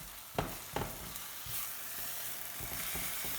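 Egg sizzles softly in a frying pan while a small spatula scrapes and stirs it into a soft scramble, with a couple of sharp taps early on over a steady low frying hiss.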